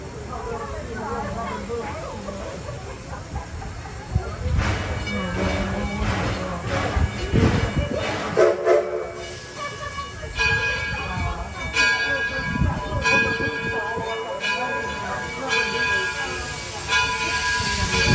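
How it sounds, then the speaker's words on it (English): The Edison steam locomotive at Greenfield Village chuffs and hisses as it runs, with rattling cars and clanks under a busy mix of voices and crowd noise throughout. "welcome aboard the Wazoo Railroad and the Edison locomotive"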